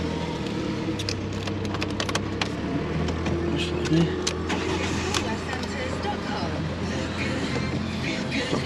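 A car with 48,000 miles starts up, its engine turning over and settling into a low steady idle that hums throughout, with faint clicks and handling noises over it.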